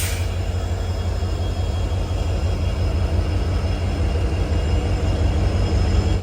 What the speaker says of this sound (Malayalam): ഇവിടുന്ന് ഒരു ട്രെയിൻ പുറപ്പെടുകയാണ്, വാസ്കോ സിക്കന്ദരാബാദ് എക്സ്പ്രസ്